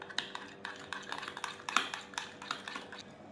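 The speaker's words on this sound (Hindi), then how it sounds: "इसको अब हम अच्छे से मिक्स कर लेंगे।" Spinach potato salad being mixed in a bowl, giving a steady run of light clinks and scrapes of a utensil against the dish, close and fairly quiet, with no voice.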